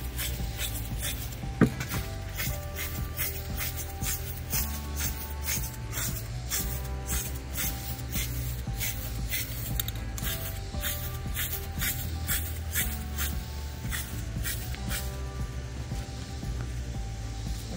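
Repeated short bursts of spray polyurethane hissing from a can onto a wooden crate tray, evenly spaced pulses over a low background hum.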